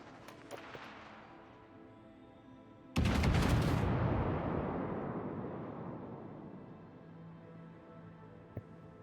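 Naval gunfire in the World of Warships video game, an exchange of shots with an Amagi battleship: one heavy blast strikes midway after a quiet stretch, then a long rumbling roar fades slowly.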